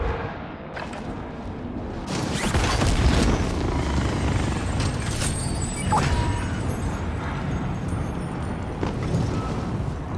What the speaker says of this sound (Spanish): Helicóptero de ataque enemigo en el área.